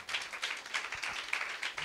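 A church congregation claps in steady, rhythmic beats at a moderate distance, with many hands together and no voices over it.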